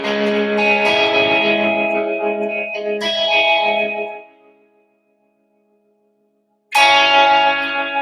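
Electric guitar solo from a song, played live in a front room through effects, with sustained chorus-like notes ringing out, a pause into silence, then a loud return.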